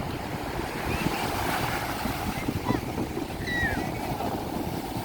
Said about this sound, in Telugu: ఎంత చూసినా చూడాలనిపిస్తుందండి సముద్రం కెరటాలు